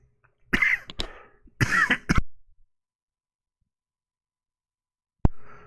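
A man reading scripture coughs and clears his throat in a few close, harsh bursts, then a short cough follows after a silent pause.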